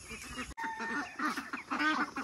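Domestic ducks being driven into their pen, a close flurry of overlapping quacks and honks with a brief gap near the start, busy and chattering throughout.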